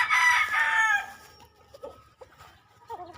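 A rooster crows loudly and close by in the open air, one long strained call that fades out, followed by softer clucks and scattered farmyard sounds.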